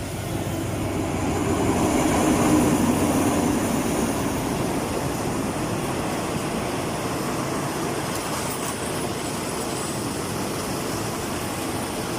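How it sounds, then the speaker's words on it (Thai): A steady broadband rumble of a train rolling past, heading toward Hua Lamphong station in Bangkok, swelling slightly early on then holding a continuous roar with no voices. "รถไฟของเราก็มุ่งหน้าเข้าสู่หัวลำโพง นะคะ"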